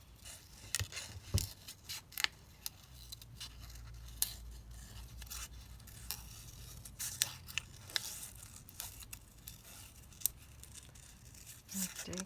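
Scissors snip through 12x12 craft paper in short, crisp cuts with soft paper rustling between them, close and quiet, irregular rhythm.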